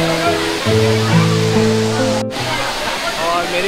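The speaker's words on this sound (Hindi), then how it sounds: "मेरे पीछे ये वाटरफॉल देख सकते हो, एकदम सीक्रेट हिडन वाटरफॉल है।" Hidden waterfall near Karjat on the Lonavala side, a constant broadband rush of falling water heard close and fairly loud, with someone talking over it throughout.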